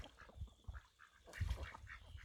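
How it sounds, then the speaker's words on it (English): Broody farmyard duck off the nest, giving a few short, near quacks in an irregular burst, with a louder cluster of calls near the end and no talking. "Here she is, the duck at the moment, Broody Duck, off the nest just for a short while."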